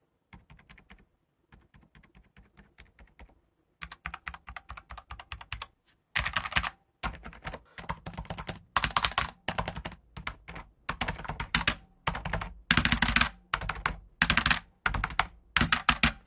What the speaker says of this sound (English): So let me start typing and listen in.